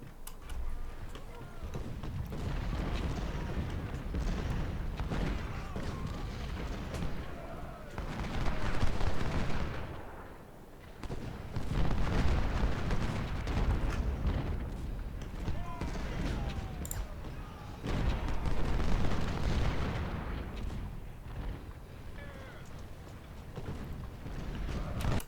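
Cannon and artillery fire from a Union battle at Harrison's Creek in the Ultimate General: Civil War game, heard as dense, continuous rumbling volleys that swell and ease in waves over about 25 seconds.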